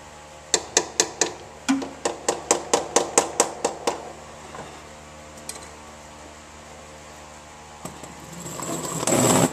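A hammer taps the oil pan of a 1976 Honda CVCC about a dozen times in a quick, steady rhythm to break it loose, then stops; a faint clink and a rising rustle follow.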